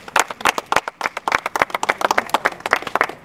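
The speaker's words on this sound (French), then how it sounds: "Des applaudissements, s'il vous plaît." Applause and clapping from a crowd at the inauguration of a football field, dense overlapping hand claps close by, steady throughout with no talk.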